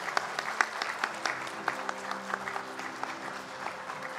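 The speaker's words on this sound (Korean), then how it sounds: "모든 분들께 축하 격려의 박수 주시기 바랍니다" A church congregation at a Sunday worship service claps in congratulation, a dense, steady patter of many hands that stays even from start to finish.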